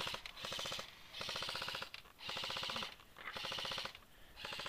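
Machine-gun fire comes in long, rapid bursts of evenly spaced shots, roughly four volleys with short pauses between them, quite distant and faint.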